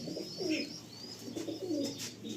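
Pigeons coo softly in a loft, a few low rolling coos repeating close by, with faint chirps above and no talking.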